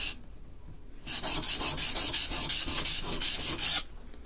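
The back bevel of a rusty vintage Stanley plane iron is sharpened in a loud, close, rhythmic rasping rub of steel stroking back and forth on an abrasive for about three seconds, then stops.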